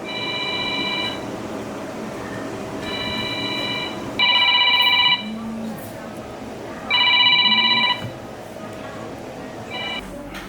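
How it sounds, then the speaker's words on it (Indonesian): A telephone rings in repeated electronic trill bursts, loud and close, in an indoor scene from an Indonesian short film, with a steady background hum between the rings. "ada telepon Bu."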